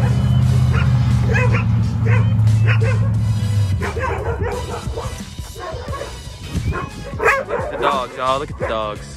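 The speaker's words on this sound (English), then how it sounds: "Oh, look at the dogs." Dogs barking and yipping outdoors in Texas snow during a 2021 winter storm, several sharp barks and a whimper following a low engine drone, with people talking over them.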